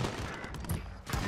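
Bursts of gunfire from a Search and Destroy match in an online shooter, clustered in a brief volley of shots with a second burst at the end, dense and fairly close.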